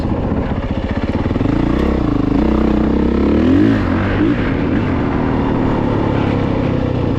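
A Honda CRF450RX dirt bike rides woods trails, its engine close and loud with rising and falling revs and a throaty, continuous growl throughout.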